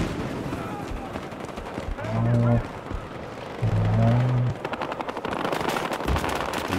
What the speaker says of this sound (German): Da schießen sie schon auf mich.